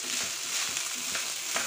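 Chicken fried rice sizzles in a hot pan in a close, steady hiss, punctuated by quick rhythmic scrapes and tosses of a spatula through the rice.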